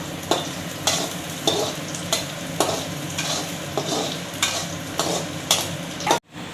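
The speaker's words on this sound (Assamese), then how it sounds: "এতিয়া আমি ব্ৰাউন হোৱালৈকে ফ্ৰাই কৰি থাকিব লাগিব।" Food fries in a pan until brown with a steady close sizzle, punctuated by regular scraping stirs of a spatula roughly every half second before an abrupt stop, with no talking.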